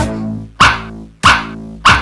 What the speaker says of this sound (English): was a farmer who had a dog, and Dingo was his name.